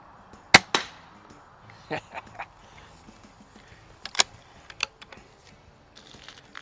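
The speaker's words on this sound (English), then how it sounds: "I like shooting these little 22s that are low power. They really punch those soda cans pretty cool." Winchester 425 .22 air rifle plinking soda cans behind spinners outdoors: a few sharp, separate cracks spread across the clip, with fainter ticks and knocks between them and no talk.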